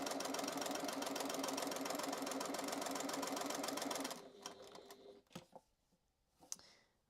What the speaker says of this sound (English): let me finish sewing